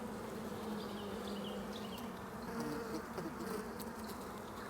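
Honeybees buzz steadily and close up during a hive inspection, a dense continuous drone with no voices.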